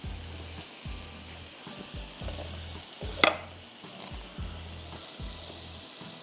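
Patties frying in a pan give a steady, moderately loud sizzle with a faint watery hiss, broken by one sharp clink near the middle; no one speaks.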